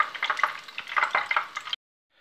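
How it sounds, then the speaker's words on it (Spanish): Eggs fry in a pan with a busy, crackling sizzle full of rapid spitting pops, close and fairly loud, before the sound cuts off abruptly. "Mi huevo frito con puntillas"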